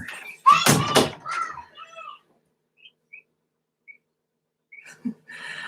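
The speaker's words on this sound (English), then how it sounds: "Shut this door." A door is shut with one loud, sharp thud, followed by near silence broken by a few faint, high chirps.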